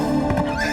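A horse gives a brief, loud whinny up close during a stormy riding scene in an animated film, with faint hoofbeats beneath it.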